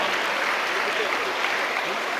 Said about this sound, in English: I think they all deserve a big round of applause for all the hard work that the students have done